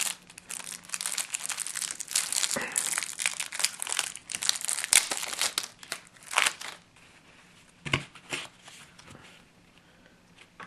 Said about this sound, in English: let's actually have a look at the deck and the sideboard and actually open up some cards here